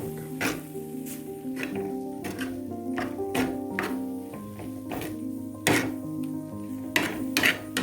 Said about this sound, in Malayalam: ഇത് നമുക്കത് ഇളക്കി വെക്കാം.